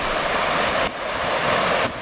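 The Namoi River in Warrabah National Park rushes steadily with broad, even water noise that stays loud and unbroken throughout.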